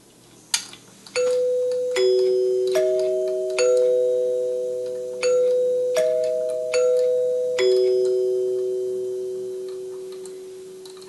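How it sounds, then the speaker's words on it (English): A NuTone 8-note electric door chime rings out on a testing jig, a sequence of clear bell-like tones struck one after another, each ringing and decaying slowly, loud and close with no talking. "your chime will get installed on this jig when I'm all done servicing it"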